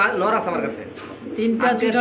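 A pair of large white-eyed, short-beaked pigeons at a pigeon sale give soft, low coos beneath someone talking close by.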